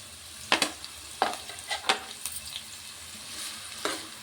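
Onion pieces and green chillies frying in a pan for a thorny brinjal tamarind curry, with a soft sizzle and a handful of sharp stirring scrapes and clinks spread unevenly across a few seconds.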